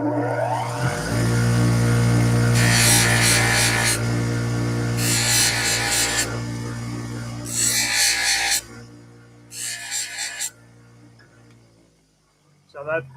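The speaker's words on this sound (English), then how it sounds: "It's called a Scotch-Brite pad. So I'm just going to deburr that real quick. Sorry if it's loud." Four bursts of loud abrasive rasping from a Scotch-Brite pad deburring a hole in an aluminum aileron part for a Rans S21 aircraft, each lasting about one to two seconds, over a steady low motor hum.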